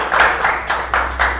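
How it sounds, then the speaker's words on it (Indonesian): Rhythmic clapping from a small audience during an Indonesian talk-show style conversation: four or five broad bursts roughly a quarter second apart, fairly loud and close, with no voices over it. "tepuk tangan untuk saya lagi"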